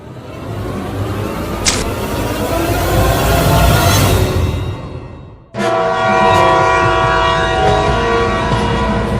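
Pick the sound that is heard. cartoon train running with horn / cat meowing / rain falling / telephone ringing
cartoon train running with horn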